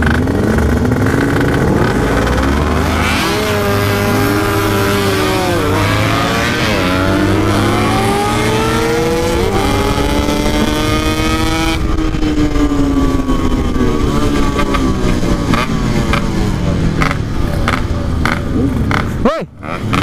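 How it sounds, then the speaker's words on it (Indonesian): Big-displacement motorcycles race past, engines roaring and revving loudly up close, pitch climbing and falling through gear changes in a continuous, intense blast of sound that cuts off abruptly at the end. "motor kencang semua ini"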